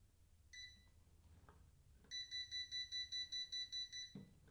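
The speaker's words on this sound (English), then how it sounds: "you get that flashing and beeping to let you know your laser is not level" An Elikliv 4-line green laser level beeps because it is not level: a single short beep, a pause, then a rapid run of about ten evenly spaced beeps, ending in a soft click.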